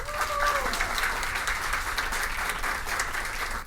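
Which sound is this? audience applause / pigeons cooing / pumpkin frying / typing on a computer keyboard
audience applause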